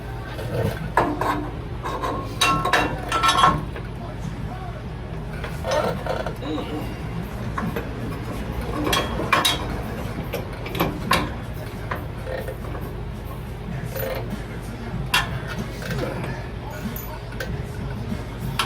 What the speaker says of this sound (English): Bolt this back up where it belongs, and then tighten it up